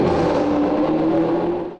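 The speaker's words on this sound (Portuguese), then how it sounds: "E que tal ouvir o ronco dos motores nesta sala especial?" Formula 1 racing car engines roar in a steady, loud, sustained drone, played in a special exhibition room about Ferrari. The sound holds an even pitch throughout and cuts off abruptly near the end.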